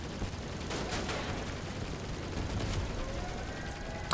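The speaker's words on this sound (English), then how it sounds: "He's using the Wyvern Cannon." The Wyvern Cannon fires in a building-and-battle video game, a rapid volley of crackling gunfire bursts over a rumbling background, with a sharp hit at the very end.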